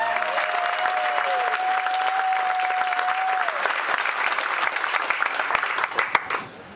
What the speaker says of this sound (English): Y'all give Charlie Daniels a round of applause.